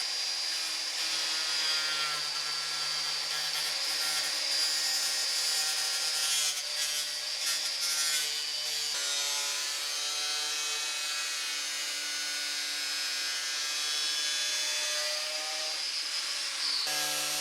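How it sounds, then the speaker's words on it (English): Cutoff wheel plunge-cutting an aluminum Jeep Gladiator hood for a snorkel install, a steady high-pitched whine and grinding hiss at close range, holding continuously with slight pitch shifts as the cut progresses. "A cutoff wheel works well on the outside for plunge cuts."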